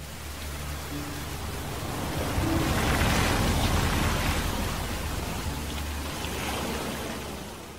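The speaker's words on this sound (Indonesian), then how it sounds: "Malam itu, hujan turun cukup deras" Heavy rain pours steadily at night, a dense, even hiss of drops on surfaces that swells slightly midway and stays continuous, with no voices.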